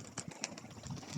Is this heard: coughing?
no